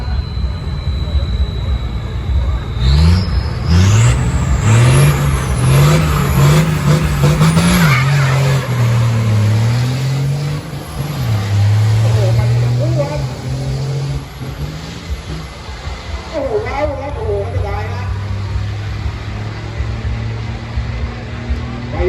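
Six-wheel racing trucks with pump-tuned engines rev loudly at a race start, then launch with a rising, gear-stepping engine roar that stays close and dominant, while a crowd and other engine noise sit underneath.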